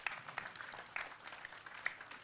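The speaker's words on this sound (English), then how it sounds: "Let's congratulate ourselves by clapping." A room of engineers at an annual oath-taking ceremony clap together, a soft, fairly distant patter of hands with a few sharper claps standing out, no voices over it.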